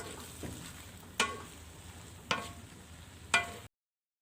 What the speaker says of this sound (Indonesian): Lanjut saya aduk kembali semuanya.